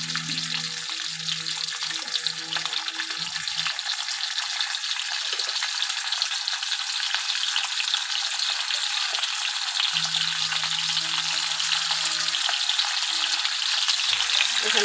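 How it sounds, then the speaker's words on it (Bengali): A fish head sizzles steadily in hot oil, a dense continuous crackling fry heard up close, with faint low kitchen hum coming and going beneath it. "চলো আর মাছটা ভালো করে ভেজে নিই মাথাটা"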